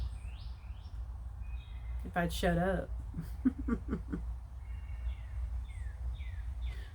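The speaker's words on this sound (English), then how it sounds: "I hope you might heard some birds" Outdoor birds chirp in short descending calls at the start and the end, while a person speaks and chuckles briefly in the middle over a low hum.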